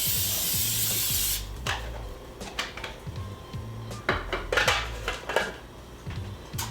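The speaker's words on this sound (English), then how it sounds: "Pan spray." Cooking spray hisses onto cheap metal baking pans in one steady blast of about a second, followed by scattered clinks and scrapes as the pans are handled.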